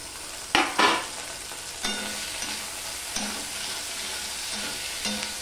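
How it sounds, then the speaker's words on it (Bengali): Tomato and ginger paste for a tengra fish curry is stir-fried in a pan, with a soft constant sizzle broken by several distinct scraping spatula strokes at irregular intervals. "সম্পূর্ণটা মিশিয়ে নিয়ে আমি আবারও কষাতে থাকবো"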